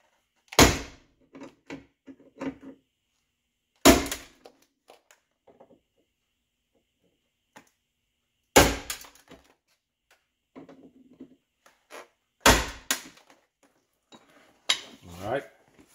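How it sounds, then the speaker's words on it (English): A hammer drives a punch against the rivet centers of a Lincoln Town Car power window regulator, giving sharp metallic strikes in spaced bursts of one to three blows with quiet gaps and faint clinks between. "got a hammer and a punch. We're going to knock these centers out."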